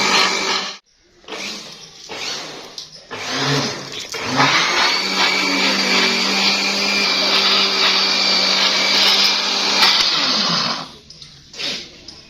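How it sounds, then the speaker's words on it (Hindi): An electric juicer machine churns lassi to make butter, starting with short stop-start bursts and then a loud, steady whirring motor drone for several seconds before cutting off. "ये कहाँ पे रखी हुई है मशीन, जूसर। लस्सी बन रही है, मक्खन जो है ना थोड़ी देर में तैयार हो जाएगा"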